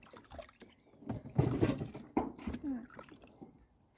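Water sloshes and splashes in irregular bursts as a dog is bathed and lowered into the water, with soft moving sounds close by.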